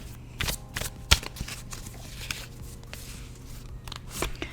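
Tarot cards from a Rider deck being shuffled and handled, with soft papery riffles and a few sharper slaps at irregular intervals, close and fairly quiet, with no talking.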